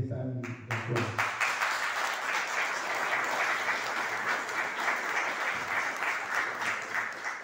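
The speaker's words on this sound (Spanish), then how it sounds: "para Yara y Uruguay Vega, quisiera un aplauso si ustedes están de acuerdo" An audience at a history event breaks into sustained applause, many hands clapping densely and evenly, with a brief voice at the very start.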